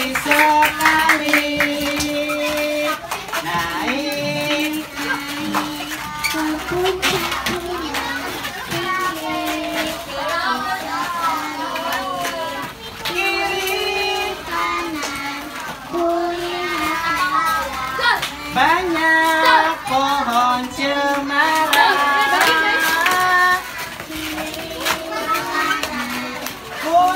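Children clap their hands in a lively, uneven patter alongside singing and chatter, the claps close and mixed under kids' voices and an adult leading.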